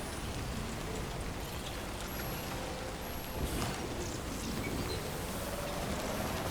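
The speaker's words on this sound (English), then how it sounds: "Oh, it's raining again?" Rain pours steadily in the Death Stranding 2 video game, a dense wash of drops on surfaces with a soft low rumble, alone and without talk.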